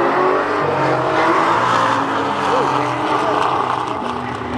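A Corvette and a BMW drag racing at a cars-and-coffee event in Indianapolis, with loud engine roar and rising tones from the passing cars, under the noise of people talking nearby.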